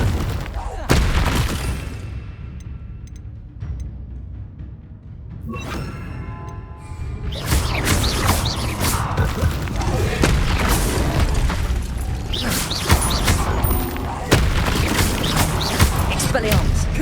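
Confringo spell explosions in the Hogwarts Legacy video game burst out as loud, repeated booming blasts. They come after a quieter stretch and then form a dense, sustained barrage, with a voice talking over parts of it.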